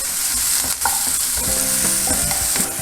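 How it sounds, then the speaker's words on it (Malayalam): Crushed garlic, onion and green chili fry loudly in hot ghee, making a dense, continuous sizzle close up with occasional stirring scrapes and no voices. "ഇതൊന്ന് നെയ്യിലിട്ട് മൂപ്പിക്കുക"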